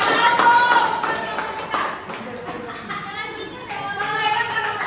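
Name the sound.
schoolchildren clapping for a group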